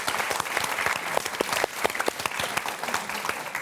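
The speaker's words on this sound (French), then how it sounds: "Mais on vous applaudit quand même très," Studio audience applause on the French game show Motus, a dense, steady burst of clapping from a crowd, sustained and fairly loud throughout with no voices over it.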